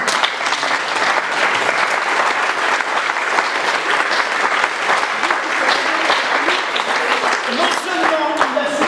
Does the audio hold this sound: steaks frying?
no